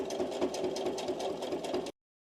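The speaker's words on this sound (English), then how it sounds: "Sew slowly and let the feed dogs pull the fabric through for you." A sewing machine stitches a cloth napkin, running in a steady, fast mechanical chatter close by for about two seconds before stopping abruptly.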